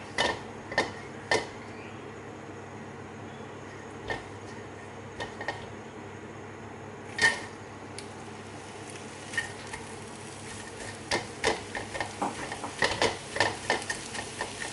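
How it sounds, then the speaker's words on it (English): Onions being stirred in hot oil in a pan: faint low sizzle with scattered sharp spoon clicks and scrapes, growing busier toward the end, no talk. "Give the oil a bit of a stir."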